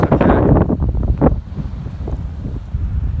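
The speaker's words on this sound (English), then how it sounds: "That's so windy right here" Strong wind at Big Bear Lake, California, before a winter storm buffets the microphone in heavy, roaring gusts, loudest at the start and then easing into a steadier rumble.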